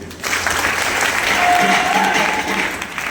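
Audience applause fills a Hindi-language community event honoring a guest, steady dense clapping from a crowd at close range for about three seconds without pause.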